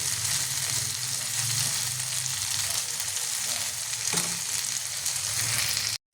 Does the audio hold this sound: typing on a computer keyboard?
no